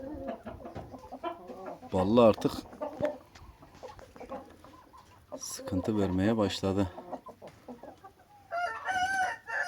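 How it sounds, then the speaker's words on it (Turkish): Roosters crow loudly twice in a coop among chickens kept for breeding, with clucking hens around them and someone speaking between and over the calls. "Tavukları görüyorsunuz mu nasıl toplanıyorlar?"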